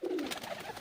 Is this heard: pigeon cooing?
yes